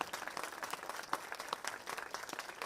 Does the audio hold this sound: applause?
yes